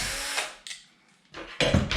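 A power drill whirs in short bursts, spinning bolts out of the rear hinge pin brace on a Kraken VESLA 5th scale RC car, with quiet pauses between the close, loud runs.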